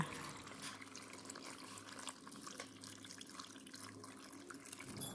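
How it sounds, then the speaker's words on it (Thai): Cooled syrup for pickled Indian gooseberries (makham pom) is poured into a pickling jar, making a steady, quiet liquid trickle and splash that runs continuously throughout, with no talking. "เมื่อน้ำเชื่อมเย็นแล้วนำมาเทใส่โหลดองค่ะ"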